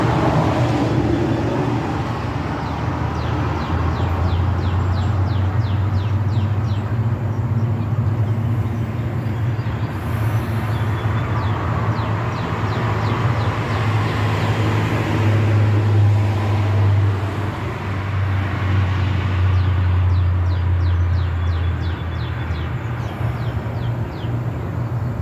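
Cars pass by on a nearby road, a continuous low traffic rumble that swells and fades as vehicles go by, steady throughout with no talk.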